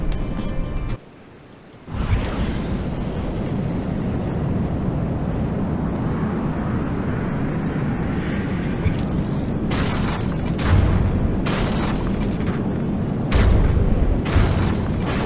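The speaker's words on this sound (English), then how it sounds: "Something exploded" An explosion in the From the Depths naval combat game: a sustained, loud, rumbling roar fills the scene with a brief drop near the start and heavier booming bursts toward the end, without talk.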